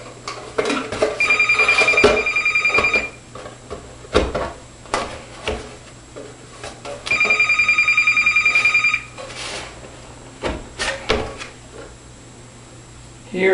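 Phone ringing in two long electronic bursts about four seconds apart, heard in a workshop while someone pries plastic tabs, with clunks and knocks of handling around the rings and no talk.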